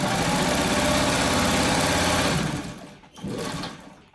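A sewing machine runs steadily while quilt blocks for a freeform quilt center are pieced, a loud continuous mechanical whir for about two and a half seconds that then slows and stops, followed by a short final burst of stitching.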